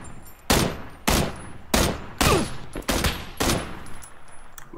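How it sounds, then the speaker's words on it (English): Gunshots in a video game ring out as about six sharp, loud cracks spaced roughly half a second apart, each trailing into a short echoing decay, with no talk over them. "I hear shots west or north"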